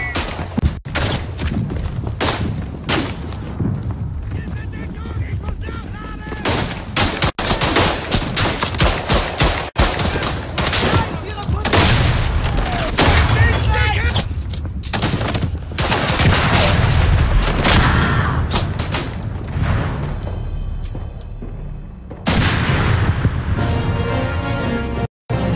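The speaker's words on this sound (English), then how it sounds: "Incoming artillery fire!" Sustained battlefield barrage in the Verdun video game: incoming artillery shells boom and crash amid heavy rifle and machine-gun fusillade, loud and relentless for nearly half a minute with only short lulls.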